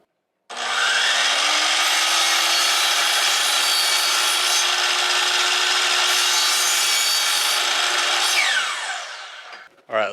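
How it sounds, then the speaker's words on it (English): A power saw cuts through wooden window trim set at a slight bevel, a loud steady whining rasp holding for about eight seconds before spinning down, with a short clunk at the very end. "So right there I just set the saw like 1 degree bevel."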